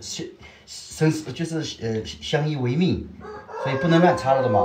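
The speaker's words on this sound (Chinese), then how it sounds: "那只公鸡也叫得很" A rural rooster crows in drawn-out calls that rise and fall, heard clearly behind and between steady conversation at a village home.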